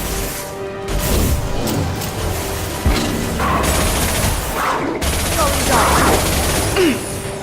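Gunfire in a Mass Effect game: bursts of rapid shots and crashing impacts, with sharp transients and rumbling booms over a busy mechanical background, fairly loud and continuous, with no clear talking.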